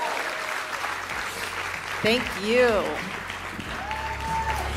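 Applause from a summit audience for a speaker, steady clapping running throughout while a voice speaks briefly over it, with some tonal sliding sounds in the middle.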